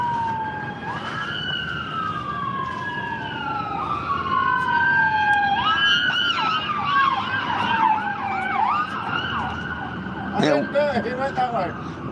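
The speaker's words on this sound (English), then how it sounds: "That one little ambulance made a lot of noise." A passing ambulance siren sounds loud and near, sweeping through long rising and falling wails before switching to a rapid yelp toward the end, with traffic noise beneath.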